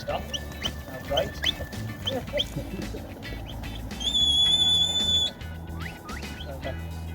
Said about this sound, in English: So we'll do the whistle now.